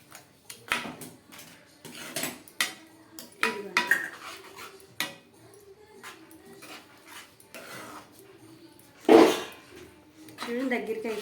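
Spatula or spoon scraping and clinking in a pan as sesame flour curry with drumstick leaves is stirred, a run of irregular close metallic knocks and scrapes with a sharper clank near the end, under intermittent talk.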